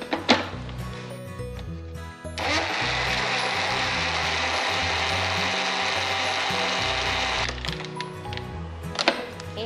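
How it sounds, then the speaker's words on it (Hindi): A kitchen mixer grinder blends a banana milkshake, bursting into a loud, steady whirring roar for about five seconds, framed by clinks and handling noises before and after. "और एक बार मिक्सी चला देते हैं।"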